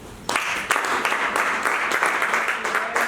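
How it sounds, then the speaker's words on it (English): An audience at a panel discussion applauds the panelists, a steady wash of clapping that rises abruptly and carries on evenly and fairly loudly throughout. "Another round of applause for our amazing panelists."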